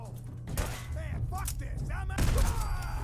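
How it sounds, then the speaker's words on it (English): Gunfire in the video game Fallout 4, a burst of sharp shots that rises into a loud, dense volley near the end, heard together with game voices and ambient effects. "I guess I'll just keep shooting them"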